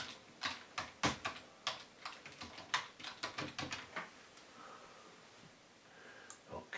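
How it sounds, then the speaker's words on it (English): Close, steady typing on a computer keyboard, a quick irregular run of crisp key clicks that slows and stops near the end, with no talking. "So I'm going to type that in."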